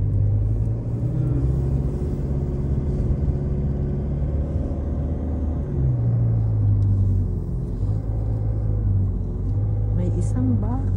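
A Toyota Super car drives along a road, heard from inside the cabin as a constant low engine rumble with slight shifts in pitch, while people talk over it.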